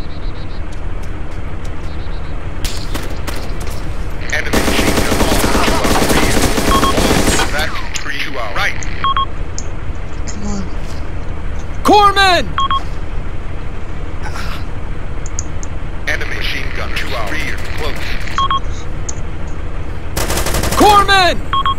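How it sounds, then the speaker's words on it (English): Enemy machine gun fire in the video game Arma 2 crackles in sustained bursts over a constant engine-like drone, with sharp shots and radio-style voices breaking in now and then. "Enemy machine gunner."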